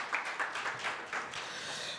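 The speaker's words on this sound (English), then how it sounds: "Another round of applause for Ms." Audience applause at a workshop, a faint, fairly thin patter of clapping from a modest crowd in a room, steady for about two seconds.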